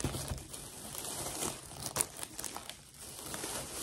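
Crisp crinkling and rustling of an old, worn, falling-apart paper sewing pattern envelope handled up close, continuous with a few louder crackles.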